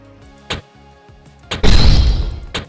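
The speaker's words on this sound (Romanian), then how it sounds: "A doua a bubuit." A Metin2 item failing its upgrade at the blacksmith and breaking, heard as a short thump followed by a loud, sustained crashing burst with game music running underneath.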